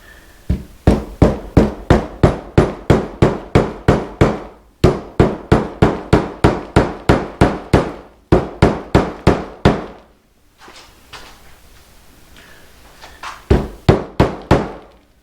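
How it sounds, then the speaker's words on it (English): A hammer drives a wood slice onto rebar for a rustic snowman decoration, striking loud and close in long steady runs of rapid blows, pausing briefly near the end before a final quick burst. "Alright, so you just hammer till it kind of looks right."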